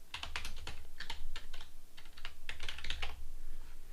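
Fingers tap out a netdiscover command on a computer keyboard in a quick, close, uneven patter of clicks with brief gaps between bursts.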